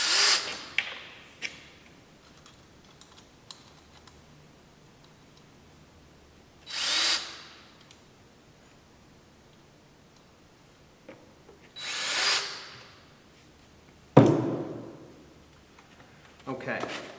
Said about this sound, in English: I'm going to go ahead and pre-start some screws into this strip of plywood.